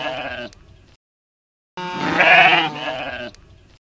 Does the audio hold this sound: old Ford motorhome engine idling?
no